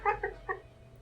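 A cat meows in a short burst of three quick mews in the office video game Death and Taxes, close and clear against quiet background hum.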